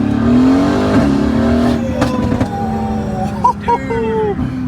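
A Mercedes AMG GT S sports car engine revs hard and climbs through two gears, pitch rising then dropping at each shift, with someone talking excitedly over it.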